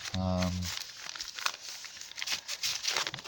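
Sheets are folded back and forth like a concertina, giving close, irregular crinkling and rustling bursts after a brief voice at the start.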